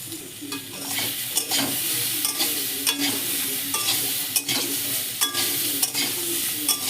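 Amla pickle spices with salt and turmeric are stirred and fried in a pan. A constant sizzle is broken by regular scraping clicks of the spoon, close and clear, with no talk.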